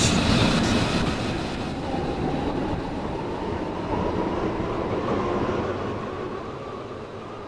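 A train runs through Millcastle station's platform 2 without stopping, a loud, steady rolling rumble with a hiss that fades slowly as it passes, no voices over it.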